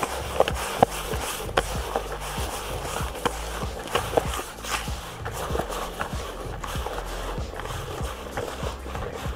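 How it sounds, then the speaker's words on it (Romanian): Wet Dynamite Baits method groundbait is mixed by hand, making close, soft squelching thumps in a regular, almost galloping rhythm that continues steadily without speech. "Pun apa peste nadă și amestec."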